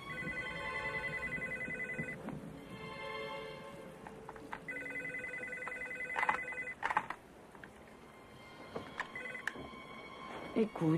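A telephone in a 1997 thriller sounds steady electronic tones, a long ringing or dialing pattern followed by short beeps, with voices speaking over the later part.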